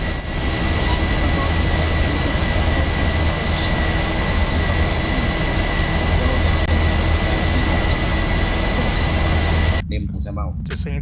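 Steady, loud roar of a simulated Boeing 737-800 jet taking off from Shanghai Hongqiao Airport runway 36L in the X-Plane 11 flight simulator, with engine tones held constant before it cuts off abruptly and a voice speaks briefly at the end.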